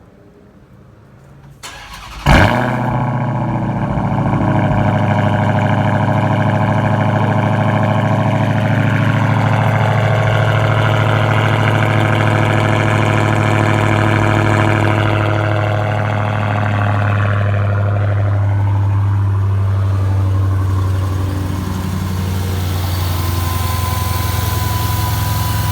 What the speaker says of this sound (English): It's a cold start.